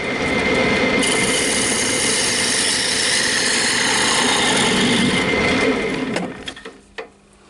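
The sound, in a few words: lathe parting tool cutting a maple box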